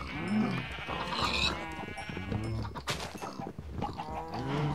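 Sheep in a Minecraft modpack game bleat repeatedly with wavering, nasal cries, several overlapping calls close and loud throughout.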